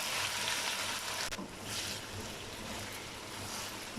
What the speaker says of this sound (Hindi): अब इसमें मसाले डालते हैं। अच्छे तरीके से इसे भून लेंगे 2 से 3 मिनट के लिए।